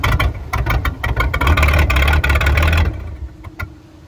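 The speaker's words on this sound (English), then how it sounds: "we're just gonna fire it up and shut it right back off just to make sure it starts." The engine of a 2000 Crownline 180BR boat, not hooked up to water, fires up and runs loudly with a rough, pulsing rumble for about three seconds before settling and fading.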